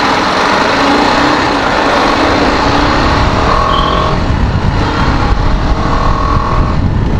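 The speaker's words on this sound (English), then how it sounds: "So the bike sounds better now." A TVS Apache RR 310 motorcycle engine drones loud and steady at close range, with a constant rushing running noise throughout and no voices.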